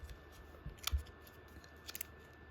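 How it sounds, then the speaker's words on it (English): Scissors cutting open packaging for a ProDec triangular shave hook, with a few faint, quick snipping and crunching cuts in two short bursts over quiet room tone. "I have to use a pair of scissors if I've got."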